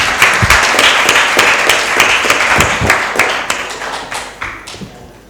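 An audience at a school debating competition applauds, a loud, crackling mass of close hand claps with a few sharper individual claps standing out, tapering off toward the end.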